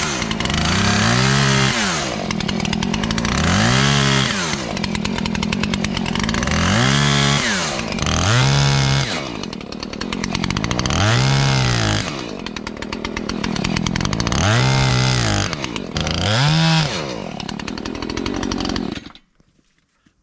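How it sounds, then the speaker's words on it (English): A chainsaw cuts into a log cabin wall to frame a window opening. The engine revs up and down in repeated loud bursts, close by, before cutting off at the end. "Now I'll take my chainsaw and go back and forth, make it a little smoother"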